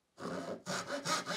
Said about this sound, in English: you can just cut everything by hand, which is what I'm doing in here